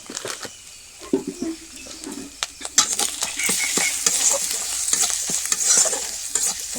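Cabbage curry with chili and coriander powder being stirred in a frying pan, the spoon scraping and clinking against the metal in irregular strokes over a steady close sizzle, with no talking.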